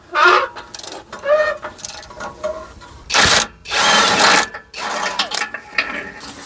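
An impact gun works on vehicle bolts from underneath, firing repeated loud, close rattling bursts of varying length, some brief and some sustained, with short pauses between them.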